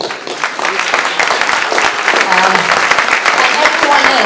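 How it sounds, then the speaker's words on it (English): Applause for Ruchi at the opening of the People's Assembly: a crowd claps loudly and continuously, dense and steady throughout. "Claps to Ruchi"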